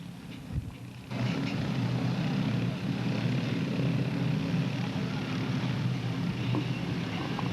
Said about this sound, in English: And young Williams puts the pedal to the metal down the back straightaway.